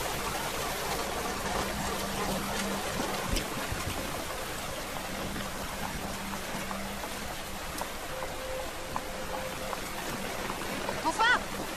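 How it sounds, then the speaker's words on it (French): Heavy rain falls outside at night as a constant dense hiss and patter, steady throughout, with voices speaking over it. "Oui, waouh, quelle pluie."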